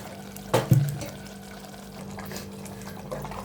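Water is poured into a pot of palak chicken gravy made with yogurt, starting with a short splashy burst and settling into a quieter, steady trickle.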